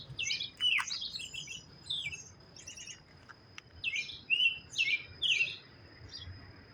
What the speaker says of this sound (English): Starlings.